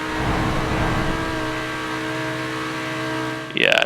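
A 2017 Mercedes-AMG GT R engine drones steadily at top speed in a racing video game, loud and sustained with a constant pitch, before a sudden louder burst near the end.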